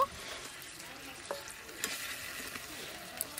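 Fried, ground onion paste stirred into a sizzling fish curry: a soft, steady frying hiss with scattered scraping clicks from the spoon, close and quiet, no talking.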